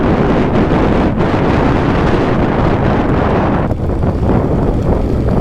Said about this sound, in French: Ah, t'as un coup de vent